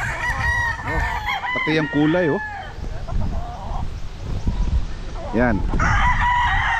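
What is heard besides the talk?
roosters crowing and clucking on a gamefowl farm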